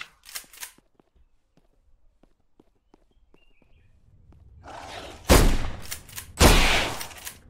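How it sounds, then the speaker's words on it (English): In a video game, light ticking steps and faint clicks lead to two loud, close shotgun blasts, each booming and then fading quickly. "I'm being very lucky with this shotgun."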